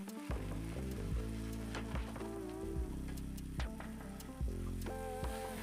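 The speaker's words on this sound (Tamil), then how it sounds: "இப்போ கத்திரிக்காய் கட் பண்ணி வச்சதை இதில் நல்லா போட்டு மிக்ஸ் பண்ணிக்கோங்க" Chopped brinjal stirred in hot oil in a pan for eggplant chutney, a soft continuous crackling sizzle with light popping, faint and close, with no speech.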